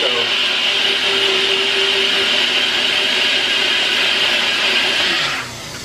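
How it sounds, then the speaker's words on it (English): A blender mixes whey protein powder for a thick ice cream, roaring as a loud, steady whir at close range for several seconds before cutting off abruptly near the end, with no talk. "I blend it several times"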